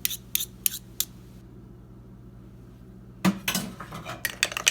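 A utensil stirs and scrapes through spicy chicken sandwich ingredients in a bowl, giving a few sharp clinks early on, a quiet pause, then a busier run of clattering scrapes toward the end, close and fairly soft.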